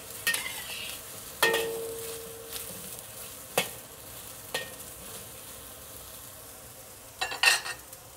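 Eggplant cooking in oil in a wok, a soft sizzle broken by a few sharp scrapes and clinks of a utensil against the pan.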